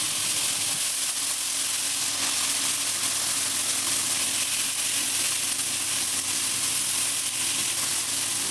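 Green beans fry in a pan, giving a steady, loud, close sizzle and hiss that runs unbroken from start to end, with no one talking.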